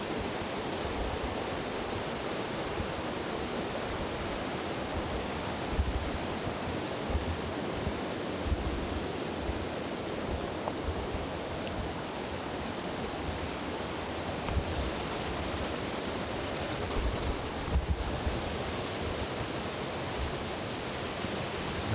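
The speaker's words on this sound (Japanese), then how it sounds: "大岩の間を勢いよく流れる川" A mountain river swollen by heavy rain rushes between large boulders on the Shirasawa route of Mount Gaki. Its steady, loud, dense roar of water runs unbroken throughout, with no voices.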